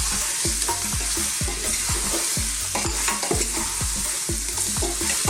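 Chopped red onion sizzles steadily in a frying pan for lamb cooking, with a regular rhythm of scraping stirs, close and fairly loud, and no voices.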